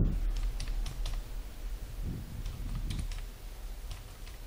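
Fingers tap out an Aadhaar card number on a computer keyboard, a quick run of close, light key clicks in short bursts over a quiet room.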